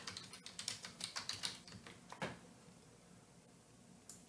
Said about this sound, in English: we're going to type in something